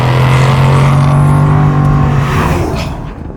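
Loud, close exhaust roar from a Jaguar F-Type R, a steady deep droning note that holds, then rises slightly before tapering off near the end.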